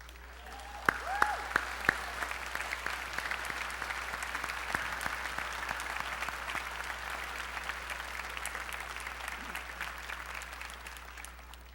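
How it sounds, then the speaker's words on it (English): A college commencement audience stands and gives a long round of applause for their supporters, opening with a few distinct loud claps before swelling into sustained, dense clapping from a large crowd. "give them a big hand of applause and appreciation"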